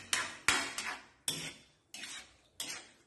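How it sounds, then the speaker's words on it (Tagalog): Squid adobo stirred in a pan with a metal utensil: five sharp scraping clanks against the pan at an uneven pace, each fading into a brief sizzle, close and clear with no talk. "Haluin po natin mabuti."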